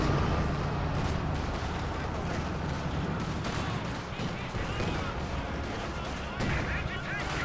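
Gunfire in Company of Heroes 2, with dense, continuous rattling small-arms shots from conscripts engaging grenadiers, layered over a steady background of battle noise and distant blasts.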